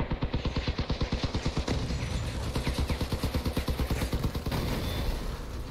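Weapon fire in the vehicle combat game Crossout comes as a fast, regular stream of heavy booming shots, loud and close and barely pausing across the whole stretch.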